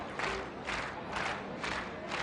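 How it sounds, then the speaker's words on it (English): A rowdy, out-of-control baseball stadium crowd in a radio drama roars and yells in steady rolling waves, loud and close, with no clear single voice standing out. "this crowd is already out of control"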